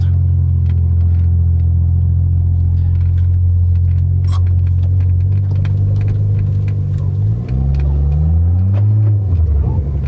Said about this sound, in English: Can hear the turbo a little bit.